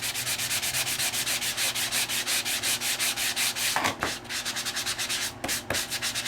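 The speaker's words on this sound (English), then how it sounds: "it's high enough for the sandpaper to hit it" Sandpaper rubs rhythmically back and forth over an embossed Christmas washi tape layer on a craft project, a steady close scratching with quick regular strokes and no talk.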